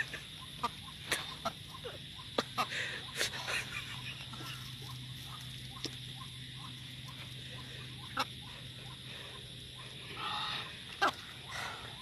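A red rooster at a ritual offering gives scattered, short clucks and rustles against a quiet outdoor background, fairly faint and irregular, with no talking.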